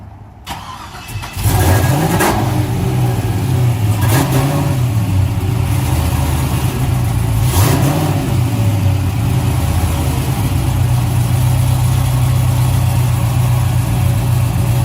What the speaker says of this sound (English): So that's that 3-inch exhaust right there.